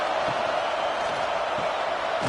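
Stadium crowd noise at a college football game, a dense, steady roar of many voices heard from a distance without distinct peaks.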